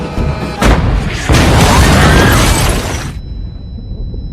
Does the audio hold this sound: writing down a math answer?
no